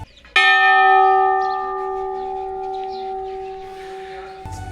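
A single temple bell rings out with one loud strike, then a long sustained metallic tone that slowly fades, with a second strike right at the end.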